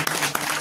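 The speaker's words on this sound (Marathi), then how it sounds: "आमचे पवार महाराज यांच्यासाठी टाळ्या वाजवा महाराज." An audience at a kirtan service during a Mahashivratri festival claps for Pawar Maharaj, a brief burst of dense, steady applause at moderate level.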